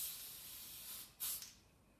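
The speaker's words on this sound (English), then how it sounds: "So you can spray all your cake with that if you wanted to." Aerosol food colour spray misted onto a cake: a soft, continuous airy hiss, then a brief louder, closer burst of spray followed by a quieter fading puff.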